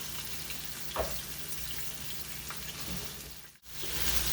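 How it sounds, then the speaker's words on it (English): Pork chops searing in hot grease in a pan, a quiet continuous sizzle with a couple of soft clatters and a short drop to near silence before the frying picks up again. "I seared each pork chop for 30 seconds per side"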